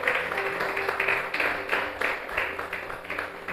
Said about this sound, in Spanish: ¿Puede darle otro aplauso a la palabra de Dios?